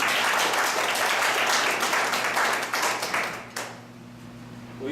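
A small meeting crowd claps for a volunteer, a brief burst of applause that swells and then fades out quickly, leaving a quiet room hum.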